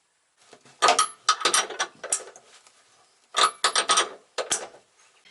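A threaded swing keel bracket on a Macgregor 26X sailboat is unscrewed in two close, rasping bursts of quick ratcheting metal scrapes separated by a short pause, with no voices.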